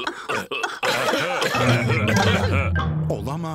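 A cartoonish voice lets out several rough, exaggerated coughs, close and loud, followed by a drawn-out vocal groan.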